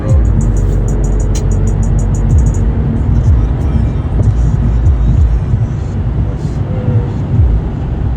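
A car engine rumbles continuously at a snowy winter car meet, a steady loud low drone with passing traffic noise around it and brief high clicks.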